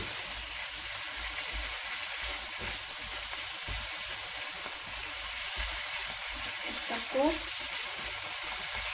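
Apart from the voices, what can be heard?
pizza bread bites frying in a pan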